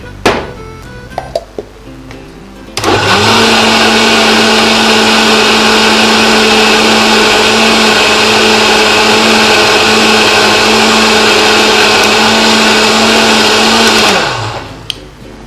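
Blender mixing an apple mango smoothie, starting after a few light clicks and then running as a loud, steady motor whine for about eleven seconds before spinning down.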